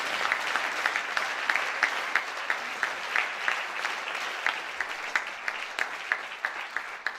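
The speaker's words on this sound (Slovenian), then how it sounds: "dajmo en aplavz za Bled" Audience applause fills the newly renovated festival hall at Bled, a steady roar of many hands with some distinct rhythmic claps standing out, sustained and even throughout.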